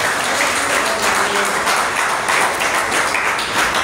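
A church congregation applauding the Lord during a sermon, loud continuous clapping from many hands with no pause.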